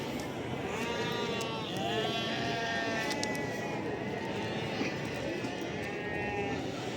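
Sheep and rams bleat nonstop at a crowded livestock market in Barda, Azerbaijan: many overlapping wavering calls, loud and close, over a constant hubbub of people and animals.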